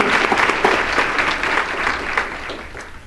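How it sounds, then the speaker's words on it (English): Audience applause at a community ACES event in 2013, a dense steady burst of many hands clapping close by, fading slightly toward the end. "so let's give them a round of applause"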